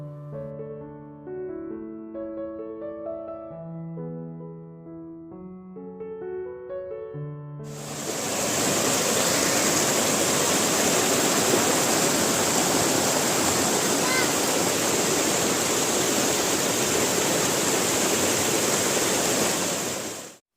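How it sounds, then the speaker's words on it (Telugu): A gentle melody of plucked tones gives way to the loud, steady roar of a waterfall at a Goa beach, continuous rushing water filling the rest. "ఈ బీచ్ లోపల మనకి వాటర్ ఫాల్స్ కూడా కనిపిస్తాయి."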